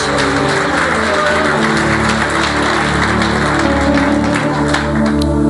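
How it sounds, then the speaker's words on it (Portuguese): Church congregation at a healing and deliverance service applauding, a steady, dense wash of clapping with a low hum beneath, sustained and loud. "Pode aplaudir ao Senhor Jesus."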